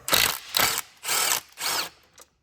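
Socket wrench ratcheting on the lower intake bolts of a Ford Edge 3.5L engine, four rhythmic bursts of rapid clicking, close and loud, each about half a second long with short gaps between them.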